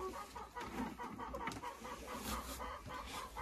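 Laying hens cluck close by in a steady, overlapping chorus that runs throughout, with several birds calling over one another at fairly even loudness and no talk.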